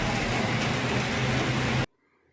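A heavy downpour during a rainy bike trip toward Ooty roars as a dense, constant wash of noise, then cuts off abruptly into near silence.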